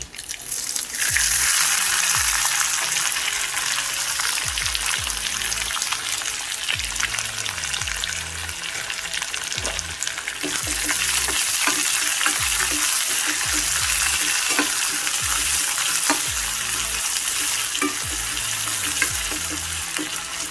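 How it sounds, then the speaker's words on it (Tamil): Chopped onions sizzle steadily in hot oil alongside curry leaves, with repeated scraping and stirring of a spatula in the pan, close and continuous, no voices. "வெங்காயம் கொஞ்சம் வதங்கட்டும். வெங்காயம் நல்லா வதங்குது."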